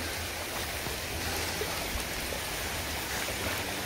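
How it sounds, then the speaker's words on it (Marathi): Heavy rain falls at night over a stream while out crab hunting, a dense, even wash of noise that stays steady throughout. "पाऊस येतोय, वरती पाऊस पडतोय"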